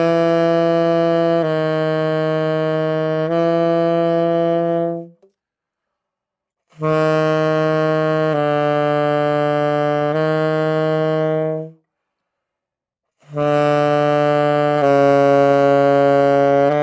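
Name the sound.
tenor saxophone low register exercise with tongue attack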